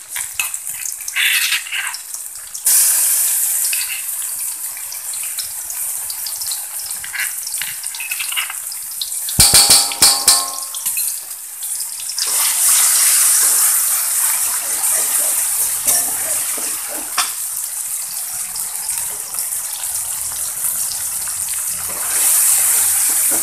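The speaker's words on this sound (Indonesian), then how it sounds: "Sekarang saya mau tumis bumbu halusnya." Spice paste sizzling and spattering in hot oil in a pan for a bitter melon and dried shrimp stir-fry, a loud continuous hiss with brief stirring scrapes and a short lull midway.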